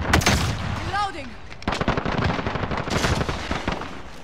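Rapid gunfire bursts from the Call of Duty Modern Warfare shooter on the Shoot House map in hardcore domination, loud and dense throughout, with a shouted voice and a descending whistle-like effect partly over the shots.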